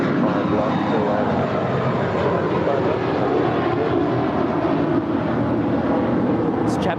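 A four-year-old JetBlue Airbus A321 with a green tail departs LAX for Newark, its jet engines producing a broad, steady, loud roar that holds for several seconds, with voices faintly present.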